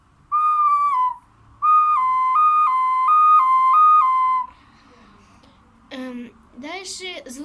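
A toy pipe whistles a siren imitation: a short rising-falling tone, then a longer wavering wail sweeping up and down, loud and close, followed by brief bursts of voice.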